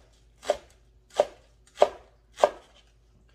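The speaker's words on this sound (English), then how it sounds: "And then we're gonna chop some green onion. Very fine, small chop green onion." Green onion being finely chopped on a board, four crisp evenly spaced knife strikes close by with quiet gaps between them.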